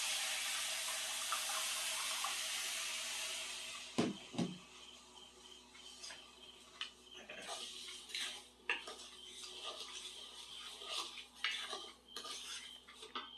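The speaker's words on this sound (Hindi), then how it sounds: "किछि पानी ऐड करिबा आमे चीनी रे।" Water poured from a vessel into sugar in a heated wok for syrup, a steady splashing stream at first, then clinks of metal and intermittent trickles and stirring, close and fairly quiet.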